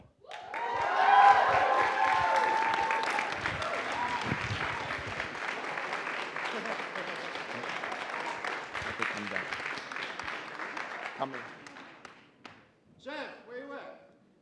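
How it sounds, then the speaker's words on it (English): Applause and some cheering from a demo day audience as a team is announced, loud sustained clapping that slowly thins and fades, followed by a brief burst of speech at the end. "Come on, guys, keep the round of applause going for all of these."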